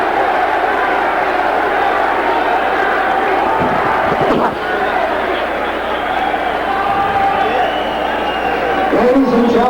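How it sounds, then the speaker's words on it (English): A boxing arena crowd at the 1983 Larry Holmes vs Lucien Rodriguez heavyweight title fight, a loud steady roar with rhythmic chanting as the fighters stand in the ring. "The crowd reacting to Holmes, chanting, Larry, Larry."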